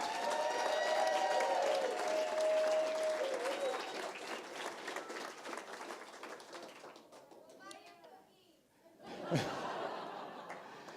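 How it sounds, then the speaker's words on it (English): Audience applause at a community media awards ceremony, a full round of clapping with scattered laughter and children's voices that gradually fades, followed by quieter murmuring and a brief louder burst near the end. "Big round of applause for the girls in Palo Alto"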